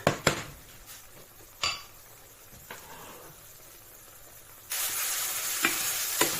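Mushrooms fry in a pan as a utensil scrapes and clinks against the metal, with a few sharp knocks early on, then a louder, steady sizzle that swells partway through.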